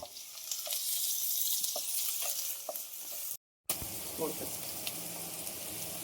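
Onion frying in a hot steel kadhai gives a steady close sizzle with occasional stirring knocks, broken by a brief silent gap before the sizzle carries on more quietly.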